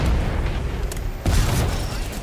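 Two loud, deep grenade blasts in the video game Apex Legends go off close together, with rumbling boom and debris over a dense roar of gunfight noise.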